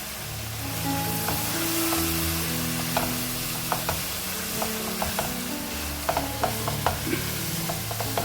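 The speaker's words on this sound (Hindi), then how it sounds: "इसको हम भून लेंगे मसाले के साथ।" Minced meat being fried with spices in a pan for aloo matar qeema, a continuous sizzle under repeated clicks and scrapes of a spoon stirring, close and without talk.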